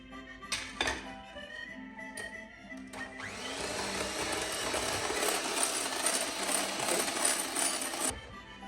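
A blender mixes syrup for a French-style lemon sorbet, starting after a few clinks and short whirs of glass and metal and then settling into a loud steady whirring roar for about five seconds before it cuts off.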